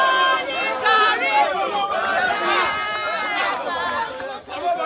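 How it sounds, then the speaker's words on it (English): A crowd in Abuja, Nigeria celebrates Sowore's court victory, with excited voices cheering and chattering loudly together in a steady, close babble throughout. "You can see the crowd is cheering, everyone is excited"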